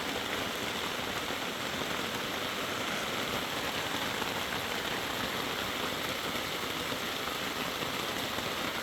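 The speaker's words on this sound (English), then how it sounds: "Getting a little bit of rain." Steady rain falls outdoors at a Vermont chimney rebuild, making a dense, even hiss with no breaks that fills the whole stretch, with no voices.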